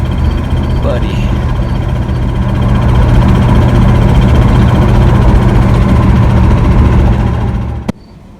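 A 1970 Ford Thunderbird engine in poor, knocking condition drones loudly and steadily up close, a low rumbling hum that holds for several seconds before a sharp click and an abrupt drop to quiet.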